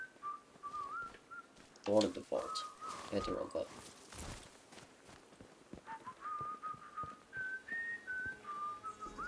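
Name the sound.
whistling bus wheels in the video game Atomfall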